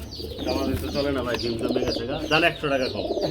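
Grizzle pigeons cooing close by, several overlapping throaty coos rolling on continuously with someone talking over them.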